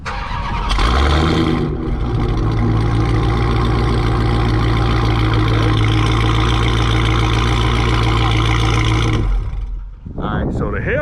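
Dodge Hellcat with a Corsa catback exhaust firing up: a sharp start, then a loud, deep, rumbling idle held close for about eight seconds before it cuts off, with someone talking briefly at the end.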